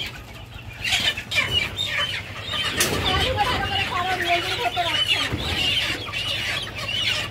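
Chickens on a poultry farm cluck and flap steadily during Ranikhet disease vaccination, with a busy mix of close, overlapping hen calls and wing movements over a low background hum.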